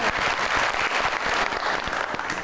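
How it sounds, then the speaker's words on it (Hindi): Audience applause on a Pakistani television talk show, dense sustained clapping from a studio crowd, loud and close throughout the short burst, no speech over it. "बहुत सारी तालियां"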